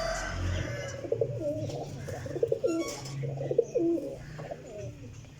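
Pigeons in a large lot of twenty-nine coo repeatedly in rolling, pulsing phrases, several birds overlapping close by, with no speech.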